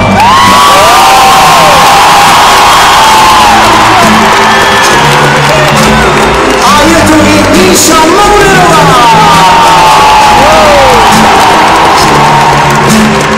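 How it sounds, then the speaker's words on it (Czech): A huge crowd at Prague's O2 arena welcomes actor Jiří Mádl with loud, continuous cheering, whoops and whistles, a dense roar that stays at full volume the whole time. "Prosím, přivítejte velkým potleskem pana Jiřího Mádla"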